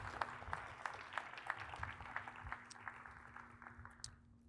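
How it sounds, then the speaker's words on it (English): A modest crowd applauds Tom, the team and the council at the opening of Community Hospital Long Beach: sparse, distinct claps at a steady pace, fairly faint and distant, thinning out toward the end over a constant low hum. "give Tom and the whole team and the council a big round of applause"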